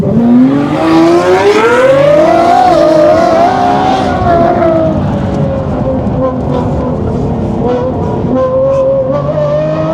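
Lamborghini Revuelto V12 screams loud and close on a race track, its pitch climbing steadily through a gear then holding a high sustained wail, continuous throughout with no talk.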